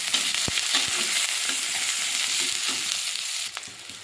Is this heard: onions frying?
yes